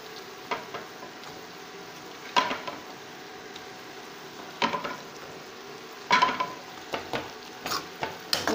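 Fried capsicum being stirred in a pan for curry: a steady low sizzle broken by scraping spatula strokes and clinks against the pan, close and fairly quiet, repeating irregularly.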